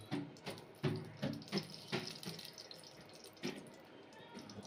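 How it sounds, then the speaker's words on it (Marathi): Water from a cooking pot is poured off while making egg biryani in a home kitchen: a series of splashing, trickling pours with short drips in between, fairly close, and no talk over it. "आता मी यातलं पाणी काढून घेते"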